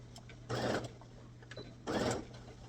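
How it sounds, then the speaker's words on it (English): A sewing machine back stitches the seam of an Ankara gathered skirt in two short, close bursts of whirring, with a low hum underneath. "I'm back stitching again, just so I'm protecting that stitch where the thread broke"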